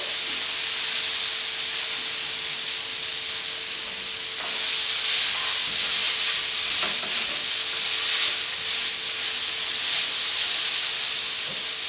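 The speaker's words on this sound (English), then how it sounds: "We're going to put in some noodles." Noodles frying and being stirred in a hot pan with beef and tomato, garlic and ginger, giving a steady loud sizzle and hiss with scraping stirs throughout and no talk.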